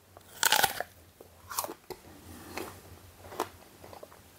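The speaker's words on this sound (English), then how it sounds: "eat the apple." Someone bites into a juicy apple with a loud, close crunch, followed by several softer crunching chews spaced irregularly.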